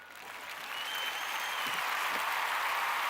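Applause and cheering from a crowd swell in and hold steady, a dense wash of clapping with no clear voices standing out.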